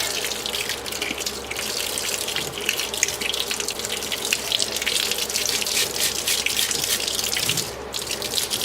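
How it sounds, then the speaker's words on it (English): A brush is rinsed under a running tap, giving a steady, close gush of water splashing into a sink that continues without a break. "I'm going to rinse the brush off to get the Walmart stuff out."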